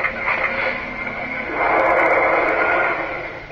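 An Iron Man Repulsor Power toy figure plays its electronic flight sound effect, a steady, loud whooshing hiss that swells in the middle and carries on alone.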